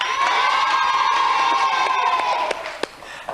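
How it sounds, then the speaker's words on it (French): A children's studio audience on a 1991 French Disney Club TV show cheers and applauds loudly and continuously, with a bright high shout running through it before it thins out near the end. "On peut l'applaudir"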